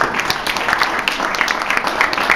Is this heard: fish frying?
no